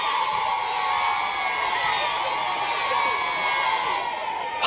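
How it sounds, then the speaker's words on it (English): Crowd of excited children shrieking and cheering outside a school as a large black car pulls up, a steady, dense wash of high voices sustained throughout. "There she is! Shrieked the children."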